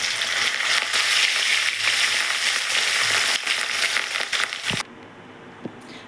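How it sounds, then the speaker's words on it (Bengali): Katla fish frying in hot oil in a pan for a Bengali curry gives a loud, close, steady sizzle with crackles, which cuts off abruptly near the end and leaves near silence. "এক এক করে সব মাছ ভেজে দিচ্ছি।"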